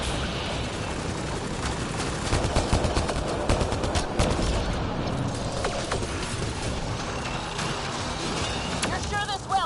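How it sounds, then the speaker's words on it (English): Rapid automatic turret fire in the Mass Effect Andromeda video game, a dense stream of gunshot bursts with mechanical clatter, steady and loud through most of the stretch, with voices talking over the combat. "Looks like we got that turret on our side just in time."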